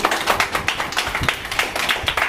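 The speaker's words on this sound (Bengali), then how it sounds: "সবাই হাততালি দাও" A crowd claps together at a Bengali dance competition show as a contestant advances to the next round, with steady, fairly dense hand claps that sound close and continue through the moment without any talk.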